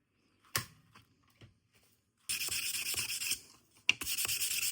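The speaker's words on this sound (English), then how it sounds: "Just go through some sandpaper." Sandpaper rubs against the blade of an old Morakniv No. 3 knife during restoration, starting with a few scattered scrapes and taps, then a sustained close stroke of about a second, a short pause and another rasping pass.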